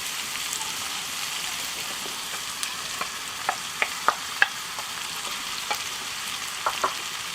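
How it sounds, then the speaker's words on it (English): Onions and garlic stirred into fennel frying in a pan on a braai, with a steady sizzle and scattered sharp crackles and pops of the utensil against the pan, close and moderately loud, no talk. "we're now going to add the onions as well as the garlic to the mix."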